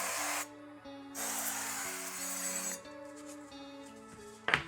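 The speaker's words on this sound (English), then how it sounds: "Now I'm going to take a casserole dish and grease it. You could use butter or cooking spray." Bursts of cooking spray hissing in short blasts, close up, greasing a casserole dish, with a few pauses between sprays and a light clink near the end.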